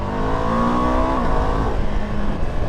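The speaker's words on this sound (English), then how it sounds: "Engine feels alright." A 2025 Ducati Multistrada touring motorcycle engine revs up, climbs in pitch, then drops back, with a loud continuous drone and heavy wind rush heard from the rider's position.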